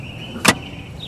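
A single short rustle and thump as the seat of a 2015 Ford Expedition XLT full-size SUV is pulled by its strap and folds forward. It is brief and close against a quiet cabin.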